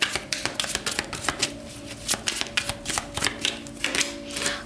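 Tarot cards are shuffled by hand in quick, continuous riffling bursts, close and fairly loud, with a steady soft hum underneath.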